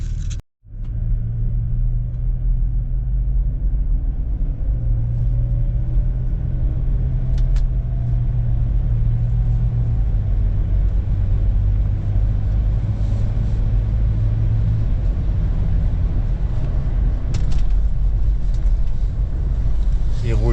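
A Range Rover Sport with a gearbox fault and very stiff suspension drives along, heard from inside as a steady low engine and road rumble that holds throughout, with some talking over it.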